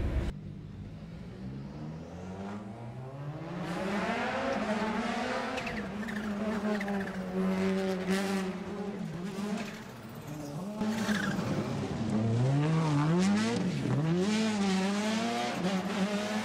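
A rallycross race car driven through corners using a hand throttle system, its engine revving and bogging with rising and falling pitch sweeps, tires squealing, loud and close throughout.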